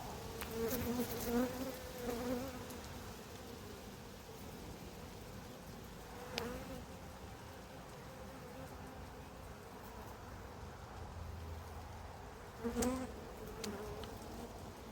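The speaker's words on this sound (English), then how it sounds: "Quite a few bees in here." Many honeybees buzz steadily inside an opened apiary hive, a dense close drone with a few louder passes as individual bees fly near.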